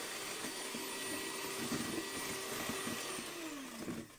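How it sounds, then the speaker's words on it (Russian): An electric mixer whips lemon sour-cream cupcake batter, a continuous loud whirring drone with a steady motor hum and small rattles of the beaters against the bowl, close and alone. "И теперь немножечко еще раз взобьем миксер."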